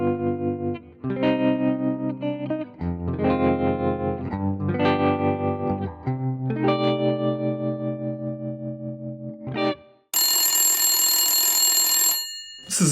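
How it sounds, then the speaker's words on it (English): An electric guitar played through a tremolo patch on a Fractal AX8 modeler, in the style of old Fender and Vox amps, rings out in chords that pulse and swell. A harsh, bright, noisy burst of tone follows near the end. "So the next sound I'm going to show you is something that I would use quite a lot, which is a tremolo sound."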